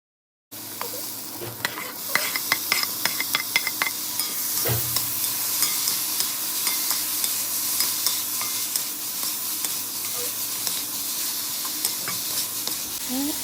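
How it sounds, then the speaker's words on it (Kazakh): Meat sizzles and crackles steadily in hot oil in a cauldron, with occasional scraping stirs against the pot, close and continuous. "қызып тұрған қазанымызға сұйық майымызды құйып, етімізден бастап қуырып бастаймыз"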